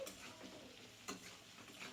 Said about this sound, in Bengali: তেলটা গরম হয়ে গেলে কেটে রাখা বেগুন দিয়ে দিলাম